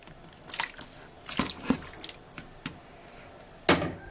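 Pieces of pork dropped into a pot of water for red pipián with chilacayote, giving several separate splashes and plops at irregular intervals, close by over a quiet background.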